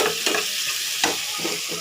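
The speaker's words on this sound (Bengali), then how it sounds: "চলো এগুলো একটু ভাজা ভাজা হোক" Food sizzles steadily in a hot pan while a utensil scrapes and stirs a few times, close up, with no talking.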